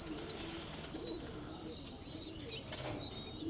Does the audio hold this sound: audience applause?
no